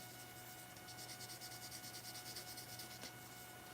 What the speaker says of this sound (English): It's more like a polishing stick than a sanding stick.